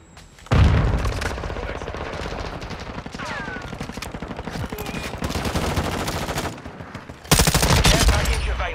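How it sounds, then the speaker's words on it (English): A Semtex grenade blast amid heavy automatic gunfire in Call of Duty Modern Warfare II, with rapid rattling bursts running continuously and a sudden loud boom near the end cutting through the din. "Throwing Semtex!"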